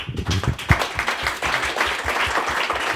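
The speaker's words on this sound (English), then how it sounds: "A round of applause, please." Audience applause rises at a startup event talk, a short burst of fairly close, uneven clapping from a modest crowd.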